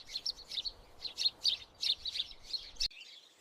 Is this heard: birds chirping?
yes